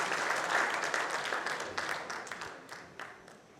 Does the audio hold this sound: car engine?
no